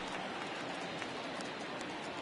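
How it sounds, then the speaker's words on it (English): Steady rain pours down across a baseball stadium in MLB The Show 20, a broad, even hiss of falling water that carries on without a break through the whole stretch. "we've mentioned the conditions aren't ideal with the rain coming down"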